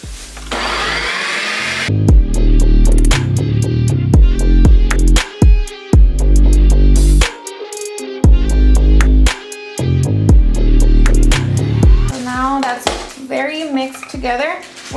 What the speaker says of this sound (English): now we're gonna mix them until you no longer see the cream cheese